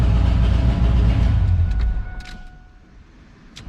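A 20-year-old drag car engine runs loud and rough up close, a heavy low rumble that holds steady for two seconds and then drops away to a quieter idle, with some faint clicks and a high whine over the top.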